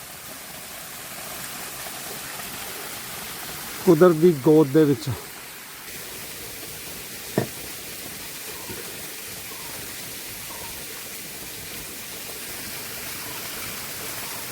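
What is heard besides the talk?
small waterfall in a Sri Lankan forest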